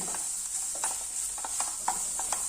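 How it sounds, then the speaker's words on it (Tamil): Food sautés in a hot pan during preparation of a tiffin-box rice dish, with a steady close sizzle and light, irregular stirring scrapes, no voices. "கொஞ்ச நேரம் வதங்கட்டும். நல்லா வதங்கிச்சு பாருங்க."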